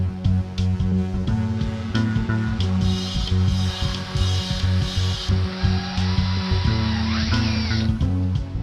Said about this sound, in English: We've got one hole drilled.